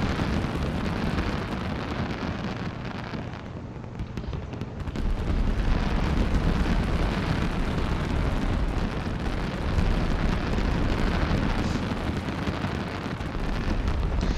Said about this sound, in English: with all these fireworks, they could totally distract you